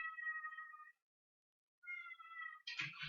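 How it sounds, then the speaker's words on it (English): A cat meows twice in a quiet room, each call a drawn-out, tonal cry separated by a short silence, followed by a brief rustle at the end. "Cat giving me grief."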